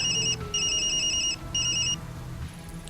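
A telephone ringing in the video game Tokyo Dark, with three bursts of an electronic trilling ring over a low hum before it stops.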